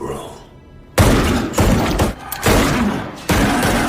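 Film gunfire as a soldier empties his weapon at an immortal foe inside a church: after a quiet moment, four heavy, booming bursts of shots hit loud and close, each breaking off abruptly.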